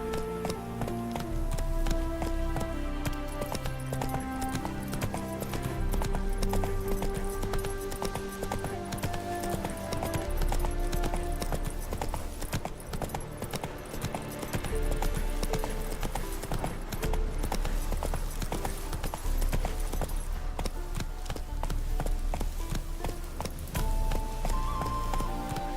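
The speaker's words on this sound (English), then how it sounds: "Run, Roach." A horse gallops in The Witcher 3: Hearts of Stone, with rhythmic clip-clopping hoofbeats running continuously beneath steady orchestral game music.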